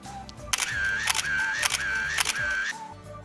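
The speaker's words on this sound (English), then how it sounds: "Shall we take a selfie?" A camera shutter fires about four times in quick succession while taking a selfie, each crisp, close click separated by a steady electronic tone.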